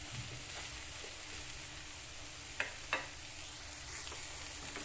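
Broccoli stirred in a hot pan over medium flame, a soft steady sizzle with a couple of brief scraping clicks from the spoon partway through, no voices.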